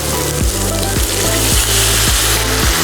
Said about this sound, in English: you want to hear a sizzle when you add the wine.